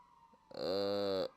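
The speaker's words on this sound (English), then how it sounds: "Here comes another siren." A loud emergency siren starts suddenly and blares a steady, harsh wail for under a second before cutting off, close by.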